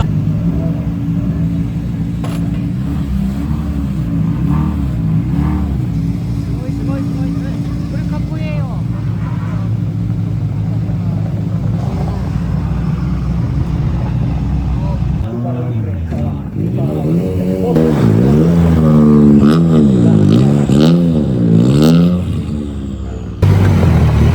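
Toyota Celica rally car engine revving at a winter rally in Rovaniemi, a loud steady rumble that swells into rising and falling revs in the second half, with a voice talking over it.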